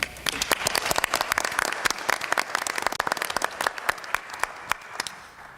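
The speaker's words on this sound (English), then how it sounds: "probably worth a round of applause" Applause at a board meeting in an auditorium, a modest room of people clapping with distinct sharp individual claps, steady for several seconds then thinning out.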